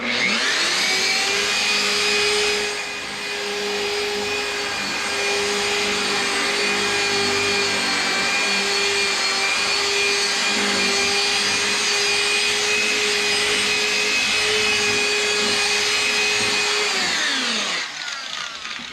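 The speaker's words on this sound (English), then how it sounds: "I have a DeWalt with a carpet brush on it" A DeWalt drill spinning a carpet brush scrubs a car's interior, a steady loud whining drone that holds for about seventeen seconds and then winds down as it stops.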